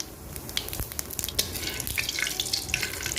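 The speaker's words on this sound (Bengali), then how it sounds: "কড়াইয়ে তেল দিয়ে দিছি আর তেলের উপরে এখনই ফোড়ন দেব জিরা শুকনো লঙ্কা গরম মশলা" Whole spices, cumin, dried red chillies and garam masala, tempering in hot oil in a kadai for a mutton curry: a soft sizzle with scattered crackles and pops, fairly quiet and close.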